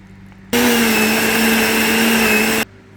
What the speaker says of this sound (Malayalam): ഈ തേങ്ങയും ഈ മസാലയും കൂടെ നന്നായിട്ട് മിക്സ് ചെയ്ത് നമുക്ക് മിക്സിയിലേക്കിട്ട് അരച്ചെടുക്കാം